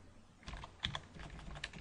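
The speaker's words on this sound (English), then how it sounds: "having typed in the name that you want, just press enter to save that" Fingers type on a computer keyboard, a short burst of quiet, close key clicks in irregular rhythm, ending with a slightly firmer press.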